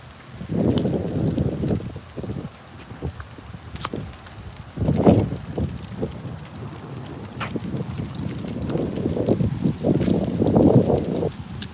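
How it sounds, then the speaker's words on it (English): Wind gusting across the microphone outdoors ahead of incoming rain, rough irregular buffeting bursts rising and falling throughout. "It's windy though, because the rain is coming in."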